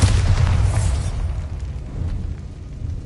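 A Bombarda blasting spell from Hogwarts Legacy detonates in one loud, deep boom that rumbles and fades over a few seconds, heavy low-end and no voices.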